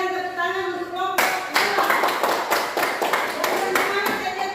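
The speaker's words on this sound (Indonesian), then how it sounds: "Kita berikan tepuk tangan untuk kelompok" A group of people applauding a presenting group in a classroom, a burst of dense clapping that starts abruptly after a voice and continues steadily and loudly.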